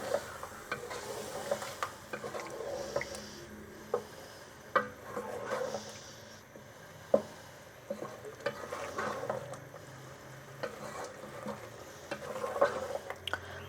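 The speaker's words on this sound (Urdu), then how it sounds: "اب اس کو پھر دہی ڈال کر بھونیں گے۔" Chicken and potato curry being fried with yogurt in a pot, a low steady sizzle under repeated stirring scrapes and occasional sharp knocks of the spoon, close, with no speech.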